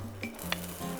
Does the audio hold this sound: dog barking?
no